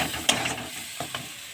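A gas stove knob turned up, a short sharp mechanical click and a few faint ratcheting ticks, close and quiet over a low background hiss.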